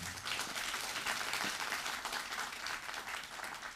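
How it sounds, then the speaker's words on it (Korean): Applause from a lecture audience for a broadcast producer, steady dense clapping heard from some distance, moderately faint and continuous for a few seconds. "큰 박수 보내주세요"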